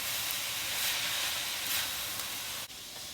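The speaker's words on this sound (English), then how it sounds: "Now I'm going to add the mushrooms." Mushrooms go into a hot wok on a heating element for a cauliflower and vegetable stir-fry, a continuous close hiss and sizzle at moderate volume, briefly cut by a small clunk near the end.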